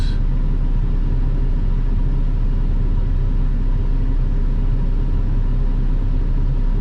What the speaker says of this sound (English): this is more normal traffic flow for Grand Avenue. Pretty steady. Lots of trucks.